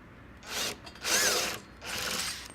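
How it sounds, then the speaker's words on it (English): A 7/16-inch socket wrench works a bolt loose on a sofa bed's metal sleeper mechanism, coming in three short close bursts of grinding, ratcheting noise with brief pauses between them. "It takes a 7/16" wrench and the 7/16" socket."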